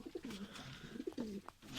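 Pigeons coo softly and close by, with throaty, rolling low coos repeating in overlapping phrases over faint background noise.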